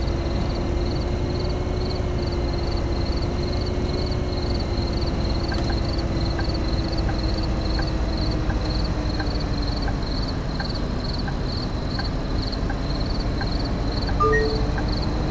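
Crickets chirp in the video game Bus Simulator 18 at night, heard inside a bus: a dense, steady insect trill with a regular pulsing chirp pattern over a low constant rumble, continuing throughout without talk.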